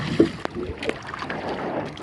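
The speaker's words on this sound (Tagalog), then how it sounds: "Medyo malakas-lakas yung alon ngayon." Strong sea waves slosh and slap around a small fishing boat on rough water, with gusty wind buffeting the microphone and a few sharp knocks against the hull, close and moderately loud.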